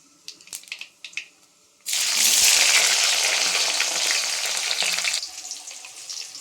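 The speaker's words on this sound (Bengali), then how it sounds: "প্রথমে দেবো তেল দিয়ে দিয়েছি কড়াই, তা কালো জিরে দেবো, এর মধ্যে দেবো পেঁয়াজ আর কাঁচা লঙ্কা।" Onion and green chilli hit hot oil with nigella seeds in a kadai, bursting into a loud steady sizzle after a few light clinks, then easing slightly near the end.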